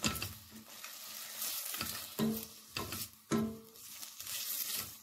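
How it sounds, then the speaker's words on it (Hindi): Onions sizzling in hot olive oil in a pan while being stirred, a steady close frying hiss broken by scraping strokes of the spoon. "और ऑलिव ऑयल हमारा गर्म होगा, फिर हम अनियंस डाल देंगे।"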